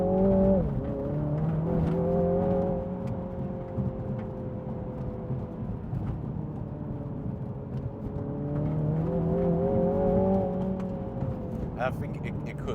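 A MINI John Cooper Works GP3 accelerates hard, its engine note rising and falling through gear changes, steady and fairly close, with someone talking over it.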